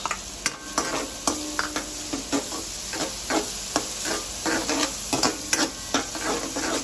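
Onion and garlic sautéing in hot oil for a shrimp dish, a bright steady sizzle broken by repeated sharp scrapes and taps of a spatula against the pan, close and fairly loud.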